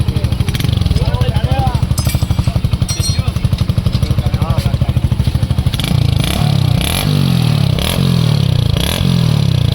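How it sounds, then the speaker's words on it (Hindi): Hero Splendor BS7 motorcycle fitted with a 98-model silencer, recorded up close: a loud, rapid, even thumping exhaust at idle, then several sharp throttle blips that swell and fall away. "देख रहे हो दोस्तों कितने ज़बरदस्त साउंड निकल रहे हैं। सेम 98 मॉडल का फील आ रहा है आपको स्प्लेंडर BS7 मॉडल में।"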